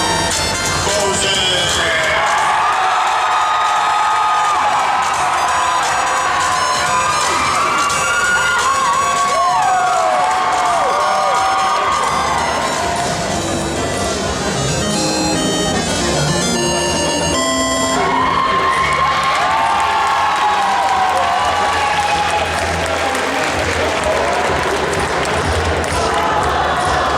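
A convention audience at a Necronomicon cosplay contest erupts for the Bowser costume with loud sustained cheering, shrieks and clapping. Rhythmic thumps and a voice are heard partway through, and the din swells again toward the end.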